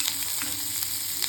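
Garlic and small onions fry in hot oil for a Tamil okra masala kulambu, producing a steady, close, bright sizzle with faint stirring scrapes and no voices.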